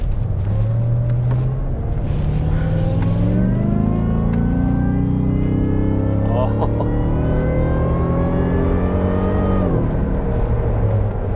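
A deep Whipple-supercharged Ford Raptor R engine drones steadily and climbs in pitch through several gear changes on a freeway on-ramp, loud and close, with a faint voice briefly over it.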